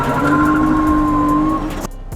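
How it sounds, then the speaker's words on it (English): A BMW E30 with a turbocharged M50 engine accelerates hard from a standstill, a loud sustained engine drone with steady rising tones, then cuts off abruptly as it shifts gear. "Now we'll go from 0 to 100, it needs 3 gears for that"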